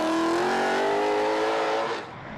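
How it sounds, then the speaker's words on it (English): A V8 muscle car at full revs on the 2012 Australian Rally Championship East Coast Bullbars Rally at Calder, loud and close, pitch sliding down as it passes before the roar drops away near the end. "proud of the way the V8 was being driven"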